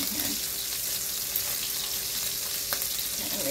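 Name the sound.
bacon frying in a pan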